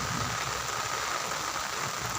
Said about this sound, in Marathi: भरपूर पाऊस तिकडं आला आहे